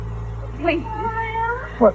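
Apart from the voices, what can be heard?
cat meowing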